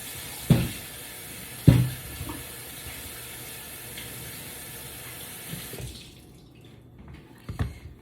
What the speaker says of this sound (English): So I'm going to get these sweet potatoes washed